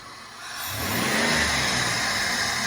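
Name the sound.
minivan engine revving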